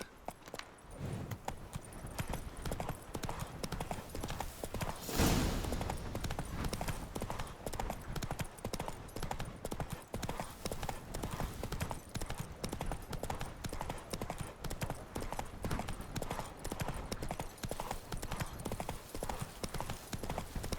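Roach, a horse in The Witcher 3: Wild Hunt, gallops with steady rapid clip-clop hoofbeats that run loud and continuous throughout, with a brief burst of noise early on.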